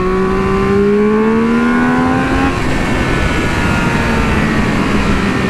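A Triumph Speed Triple 1200 RR motorcycle engine drones loudly while riding, its tone climbing then holding steady over continuous wind rumble.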